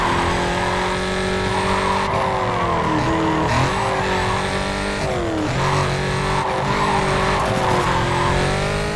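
A heavily tuned Corvette racing in NFS Carbon, its engine roaring loud and close with rising and falling revs through gear changes, overlaid by long tire squeals as the car skids through corners.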